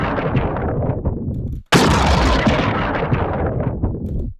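Crumpled paper processed and pitched down into an explosive impact: two dense, booming bursts, the second striking sharply after a brief gap and rumbling on with a long, loud decay.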